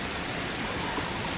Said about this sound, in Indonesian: tapi hari ni hujan turun